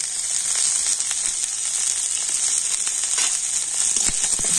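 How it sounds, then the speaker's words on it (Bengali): Chopped onion and crushed garlic fry lightly in a pan, giving a continuous hissing sizzle with faint crackles and occasional soft taps, close and alone. "এখন সবকিছু একটু হালকা করে আমি ভেজে নিচ্ছি।"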